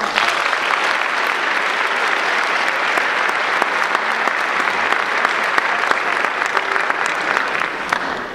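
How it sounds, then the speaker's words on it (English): An audience at a high school jazz band concert gives sustained applause, many hands clapping in a thick, steady patter with a few sharper individual claps standing out, continuing unbroken to the end. "Give him a round of applause."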